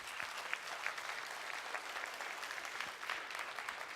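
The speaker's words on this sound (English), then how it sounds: "A big round of applause" Applause at a gastronomy tourism forum in Bangkok, a steady, fairly faint wash of many hands clapping in a large hall, even and sustained with no voices on top.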